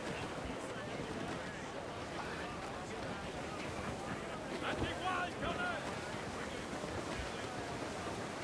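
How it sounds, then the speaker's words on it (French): Steady, broad rush of wind filling the sails of a sailing ship at sea in Assassin's Creed Black Flag, continuous and even, with faint voices underneath. "Voilà un peu de vent, les gars!"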